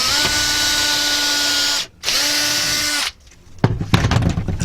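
A power drill whirs at a steady high pitch in two long bursts separated by a brief stop, close and loud, then cuts off, followed by clattering and knocking sounds during a van bed build.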